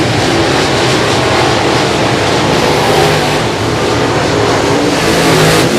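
Race cars roar around Sabine Speedway in a dense, continuous engine wash that stays loud and steady throughout, with no clear pass-bys standing out and no voices.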